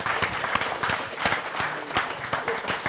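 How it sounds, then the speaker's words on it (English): A small church group claps briefly, a patter of scattered hand claps that holds steady for a few seconds. "Let's go ahead and give him a round of applause."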